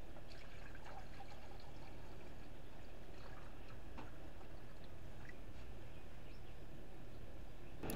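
Pyrolysis oil poured into a distillation flask in a thin stream, giving a steady faint trickle and light dripping that runs on without a break, with no talking.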